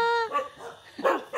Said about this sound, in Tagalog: Uy, tinahulan ako ni Baldo.